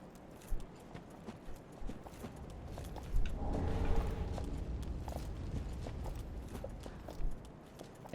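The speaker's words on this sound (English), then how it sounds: "I hear horse hooves." Horse hooves clip-clopping in the Dark Souls 3 video game, a steady approaching gait that swells in the middle and stays moderately loud over a muffled game backdrop.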